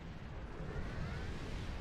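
Low, rumbling explosion blasts from a video game, a dense continuous boom with no distinct separate hits, moderately loud and alone without talk.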